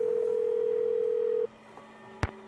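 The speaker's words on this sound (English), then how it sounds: "So let's call Bess again." A telephone dial tone sounds while a call is placed in a Nancy Drew video game: one steady, clear tone holds for about a second and a half, then cuts off, followed by a short click, with no talk.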